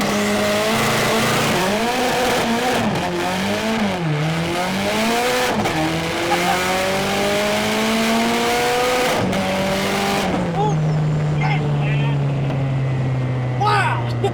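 Nissan 240SX S13 with a new turbo pulls from a dead stop, its engine revving up through rising gear sweeps, dipping at shifts and climbing again, loud and close, then easing off as voices react.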